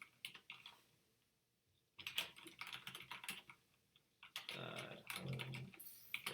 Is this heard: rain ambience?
no